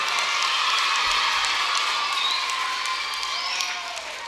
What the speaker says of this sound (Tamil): ஒரு பலத்தை கைத்தட்டல் கொடுங்க